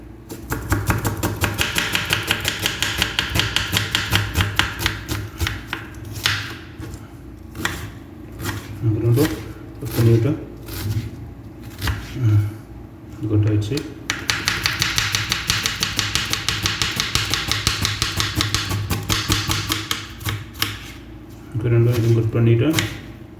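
Chicken being chopped with a knife on a board for restaurant-style kadai chicken, sharp repeated thuds in uneven bursts, loud and close, with someone talking over and between the cuts.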